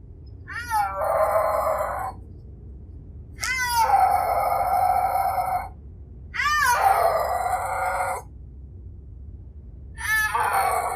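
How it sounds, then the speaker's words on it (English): A snow leopard gives four drawn-out, wavering whining calls in separate bursts, each rising and falling, close and fairly loud over a steady low background rumble. "the snow leopard doesn't give you a roar at all, hardly. It's more like whining."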